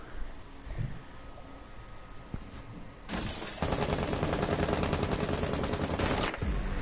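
Gunfire in a PS4 shooter game: after a quieter stretch with a few scattered cracks, a long, loud burst of rapid automatic fire runs for several seconds and then cuts off abruptly.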